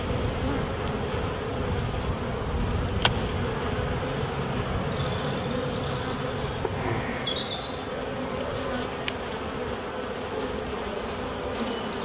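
Honey bees buzzing steadily at an open hive during a spring inspection in the UK, a dense continuous drone filling the whole stretch with a few brief sharper sounds, no talking.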